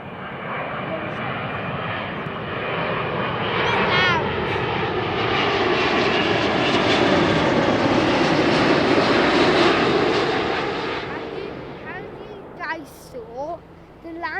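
An airliner on approach to Heathrow runway 27R roars loudly and steadily overhead, swelling and fading over many seconds, with a voice and brief chatter breaking through near the end.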